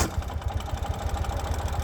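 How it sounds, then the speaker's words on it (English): A 2018 Ural M70 motorcycle cranks over on start, with a rapid rhythmic low chugging pulse from the starter and engine, close and fairly quiet, with no talk. "As you can hear, it cranks over."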